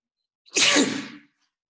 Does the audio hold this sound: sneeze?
yes